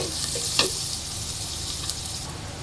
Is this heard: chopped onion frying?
yes